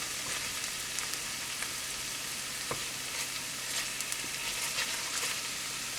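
Garlic and anchovies frying in a pan for spaghetti puttanesca, a steady dense crackling sizzle with occasional faint pops and scrapes, no talking.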